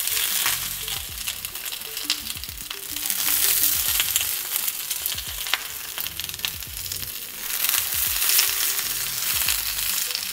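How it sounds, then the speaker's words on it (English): Bok choy stir-frying with garlic in a hot pan: loud, continuous close sizzling with bursts of hissing as the greens are tossed and stirred, plus a few clatters of the utensil against the pan. "Just stir-fried bok choy with garlic."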